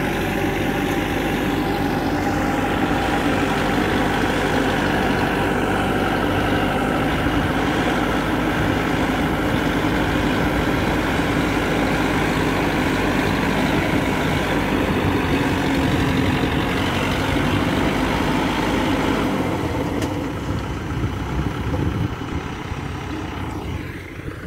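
A tractor engine runs continuously in a farm field beside an irrigation ditch, a loud steady rumble that keeps going for the whole stretch and eases slightly near the end.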